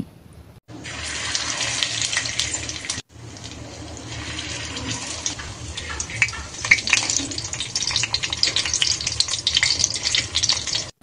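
Loud, continuous sizzling and spattering of beef kebabs frying in hot oil and ghee in a kadai, close up, with a brief break near the start and crackling that builds toward the end.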